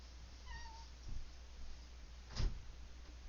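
A cat in a Sims 4 game gives a few faint rising meows early on, followed by soft thuds and a door-like knock, all fairly quiet.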